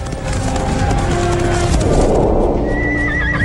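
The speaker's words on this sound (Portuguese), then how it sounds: "Os humanos vão a cavalo para a batalha pela primeira vez." Cavalry horses charge into an ancient battle, with loud, close neighing over a continuous pounding of hooves.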